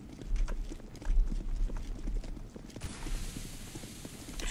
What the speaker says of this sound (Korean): 비 달리는 소리 조금 났어요.